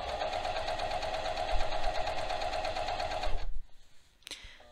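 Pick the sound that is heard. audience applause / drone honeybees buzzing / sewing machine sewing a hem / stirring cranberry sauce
sewing machine sewing a hem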